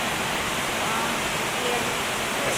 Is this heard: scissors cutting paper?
no